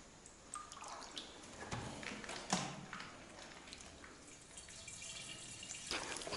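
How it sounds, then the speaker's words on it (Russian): Water drips and trickles in a flooded basement while someone collects it, with sparse irregular drops and splashes over a faint watery background, fairly close and quiet. "Пока мы набирали воду"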